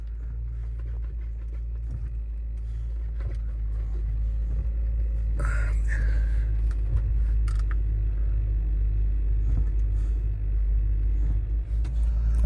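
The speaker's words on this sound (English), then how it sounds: "Put it into drive, and we are in low, and it shifts through the gears in low as well." Land Rover Discovery II running in low range, its engine a steady low rumble from inside the cab as the automatic gearbox shifts through the gears, with a brief clunk midway and no talking.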